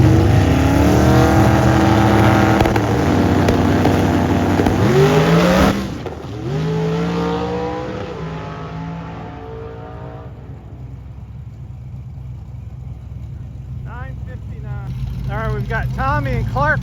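A drag strip launch with a 1966 GTO on slicks and another car on radials, engines roaring loudly and revving hard, then the noise fading away down the track while a voice talks near the end.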